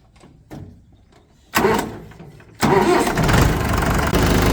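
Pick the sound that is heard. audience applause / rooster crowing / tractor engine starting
tractor engine starting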